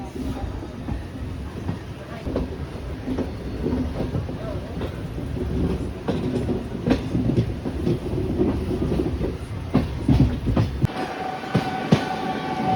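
A train pulling out of KSR Bengaluru station rumbles loudly with a steady clickety-clack of wheels over rail joints and sharp metallic clanks, building as it rolls on; voices are heard in the background.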